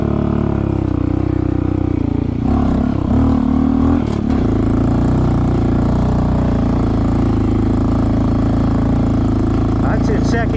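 A Honda CT125 motorcycle engine drones loud and close while climbing a steep hill in second gear, a steady labouring hum with brief gear-shift wavering, as someone talks over it.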